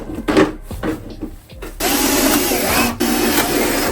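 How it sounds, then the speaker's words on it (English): A drill bores holes into an ABS race fairing side panel on a Kawasaki ZX6R, with scattered handling knocks giving way to a loud, steady whine that briefly dips before running on. "And now we have the holes drilled"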